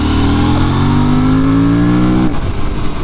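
An Aprilia RS457 motorcycle pulling hard in second gear at lower revs while wheelieing, a loud, close engine note rising steadily, then dropping off into rougher rumble.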